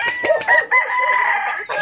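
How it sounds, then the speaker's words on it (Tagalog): A rooster crows once, loud and close, its call rising and then stretching into a long drawn-out note. "Ang manok."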